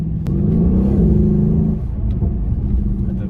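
A Mercedes-Benz CLS AMG with 4matic all-wheel drive accelerates hard, its engine a loud, close, deep rumbling roar that builds and then eases slightly, with no talk over it.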